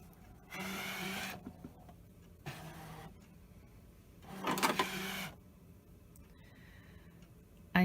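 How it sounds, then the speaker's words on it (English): A ScanNCut cutting machine draws a vinyl-topped mat in with three separate whirring motor bursts, each lasting about a second, separated by quiet pauses, close and fairly loud. "I'm going to load the mat into the machine"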